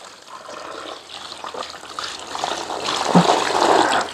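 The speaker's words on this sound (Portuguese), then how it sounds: "aí a gente joga areia na lateral, areia grossa, e aí a gente joga água" Water is poured onto coarse sand along the side of a grease trap in a construction trench, a steady splashing trickle that grows louder and fuller over a few seconds, close by with no talk.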